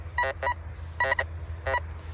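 Golden Mask 1+ analog metal detector with Xtreme 9.5 coil giving repeated beeping target signals over a field, short tonal bursts in an uneven rhythm over low background rumble.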